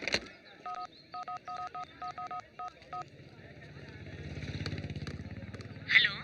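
A run of quick beeping keypad tones as a phone number is dialed, then a low engine hum rising in the background.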